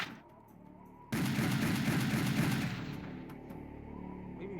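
A boss fires a chain gun in the Serious Sam: The First Encounter video game, a sudden loud sustained burst of rapid gunfire that holds for a couple of seconds and then fades into echoing booms.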